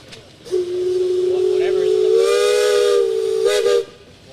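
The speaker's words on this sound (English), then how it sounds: "How about a whistle, guys? You got one on there?" At a parade of old machinery, an old Case steam engine blows one long, steady whistle of about three seconds, loud and near, with a hiss of steam around it.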